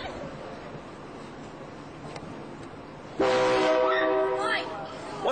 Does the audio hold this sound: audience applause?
no